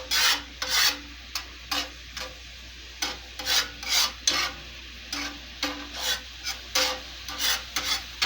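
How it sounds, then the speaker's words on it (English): Mushrooms and onions are pushed aside in a frying pan, a series of rhythmic scraping strokes against the pan over a faint sizzle, close and fairly loud. "So I'm just going to move my mushrooms and my onions to the side of my pan."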